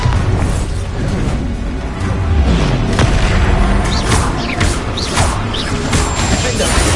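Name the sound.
Bombarda explosion spell, video game Hogwarts Legacy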